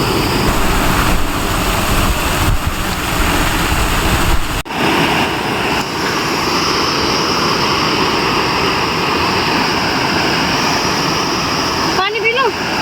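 Shikhar Falls, a mountain waterfall in a forest in Uttarakhand, roars loud and steady with dense broadband rushing water and no break throughout.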